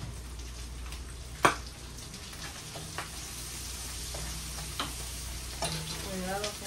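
Grated garlic frying in a pot for a lentil soup with bacon, a continuous close sizzle with scattered spattering pops and a couple of sharp utensil knocks.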